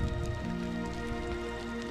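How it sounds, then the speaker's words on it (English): Rain begins falling steadily on a mountain hike in the French Pyrenees, a constant patter on surfaces and gear close by, heard on its own without talk. "it's actually starting to rain quite a bit"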